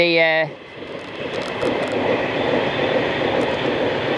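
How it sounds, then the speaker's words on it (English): Pendolino train in Virgin livery rushing past close by near Carnforth, a broad continuous roar with rail rumble after a brief horn-like tone at the start. "oh, there you go, Pendolino, Vanti colours"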